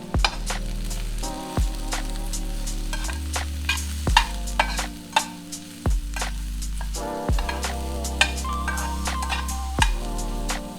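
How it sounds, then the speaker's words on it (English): Thinly cut mushrooms with onion fry in a pan under repeated scraping stirs, each stroke a distinct spoon-on-pan clack over a soft continuous sizzle. "Add 200 grams of thinly cut mushrooms and mix well to combine."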